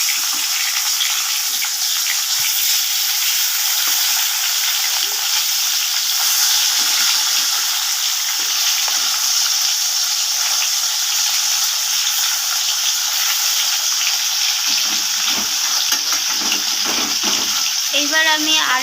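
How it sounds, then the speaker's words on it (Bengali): Rohu fish pieces frying in hot oil in a pan over a low flame, making a steady, loud, dense sizzle throughout with occasional faint clinks near the end. "এইবার আমি অপর সাইডটা আরেকটু ভাজার জন্য আরেকবার আমি গ্যাসটা লো ফ্লেমে করে ভাজা হতে দেব মাছটাকে"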